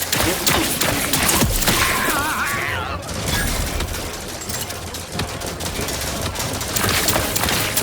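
Dense, sustained gunfire from a battle in the video game Outer Worlds 2, a loud continuous barrage of rapid shots with metallic impacts and effects running through the whole stretch.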